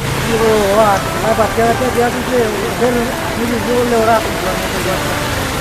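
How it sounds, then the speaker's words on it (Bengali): Heavy rain pours down outside a rickshaw, heard from inside as a dense, continuous hiss with someone talking over it throughout. "এই যে বাহিরে কি পরিমাণে বৃষ্টি হচ্ছে আমি রিক্সার মধ্যে বসে টিকতে পারতেছি না"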